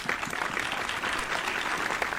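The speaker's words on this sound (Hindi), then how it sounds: "तो तालियों से सूचित करिएगा," Audience applauding at a Hindi comic poetry event, a sustained dense round of clapping from a crowd that holds steady for the whole moment.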